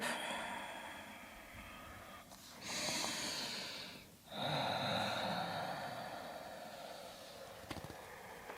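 Two long, breathy Ujjayi exhalations during a yoga forward fold from Baddha Konasana, close and soft, each swelling for over a second with quieter breathing between.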